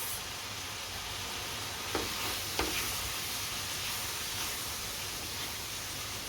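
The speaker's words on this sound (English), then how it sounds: "I'm going to dump the seasoning mix in here and mix it all up" Southwest Spice seasoning mix is stirred into a one-pan mango taco filling, with a constant loud hissing sizzle and two brief clinks of a utensil against the pan, with no talking.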